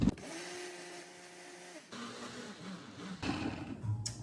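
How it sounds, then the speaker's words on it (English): A kitchen blender whirs through oatmeal and eggs for protein pancakes in three close, fairly quiet bursts, its motor pitch changing slightly from one burst to the next. "And then put it in your blender."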